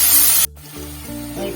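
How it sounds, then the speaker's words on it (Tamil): Green chillies and curry leaves sautéing in a pan for a potato poriyal: a loud, sharp sizzling hiss for under half a second, then it cuts off, leaving a low background hum. "இப்ப இது கொஞ்சம் வதக்கலாங்க."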